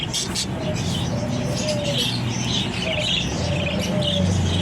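Birds chirp and coo nearby against a constant outdoor hum, with short tweets repeating in a loose rhythm.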